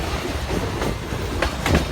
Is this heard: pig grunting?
no